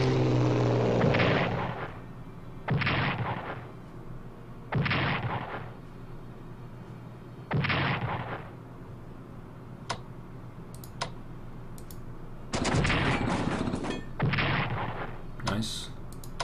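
Bombing and artillery fire in the Strategic Command wargame land as a series of short, loud bursts spaced a second or two apart, with sharp clicks between them and a steady low hum underneath.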